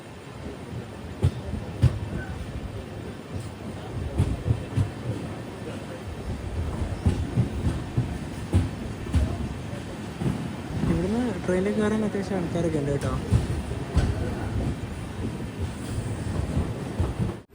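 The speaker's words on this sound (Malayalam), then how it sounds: "ട്രെയിൻ ഇതാ കോഴിക്കോട് റെയിൽവേ സ്റ്റേഷനിലേക്ക് എത്തുകയാണ്." An Amrit Bharat Express pulls into Kozhikode railway station toward platform 4, a steady rumble of wheels and carriages with squealing brakes partway through, while someone talks over it and the platform bustles.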